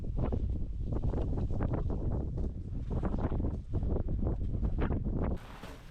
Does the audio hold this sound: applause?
no